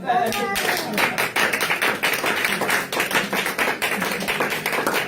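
A church congregation breaks into loud, sustained applause, many hands clapping in a dense, uneven rhythm that fills the room from start to finish.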